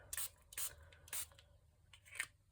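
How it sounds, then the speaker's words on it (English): Ink spray is spritzed over oxide inks on paper in four short, soft hisses spaced about half a second apart, faint and close-up, with no talking. "And then I'm going to spritz some pink over the oxide inks."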